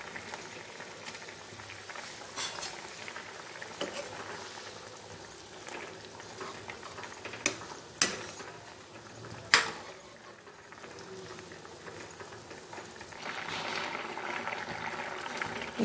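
A pot of manimuni curry with gram lentil fritters simmering, soft continuous bubbling with a few sharp clicks and knocks midway and a slightly louder burble near the end.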